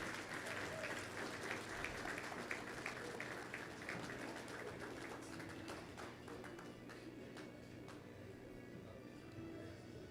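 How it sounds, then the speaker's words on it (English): Applause from a crowd, many hands clapping steadily and gradually thinning and fading out over several seconds, heard from a distance. "And keep the applause going"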